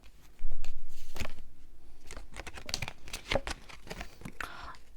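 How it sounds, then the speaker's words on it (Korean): Tarot advice card being pulled from a deck: close, soft papery shuffling and sliding with a few crisp flicks and snaps, irregular and quiet, with a little low background talk. "우리 3번님들에게 드릴 수 있는 조언 카드 한번 뽑아볼게요"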